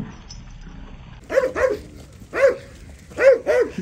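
Dogs bark nearby in five short, sharp barks, mostly in quick pairs with pauses between, over a quiet background.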